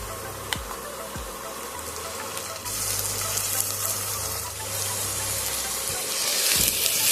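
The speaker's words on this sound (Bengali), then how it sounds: "এটা এবার পেঁয়াজের সঙ্গে ভালো করে ভেজে নেব।" Onion paste added to browned onions frying in a pan for spicy chicken kosha, a continuous sizzle that swells louder partway through, with occasional spatula scrapes and no speech.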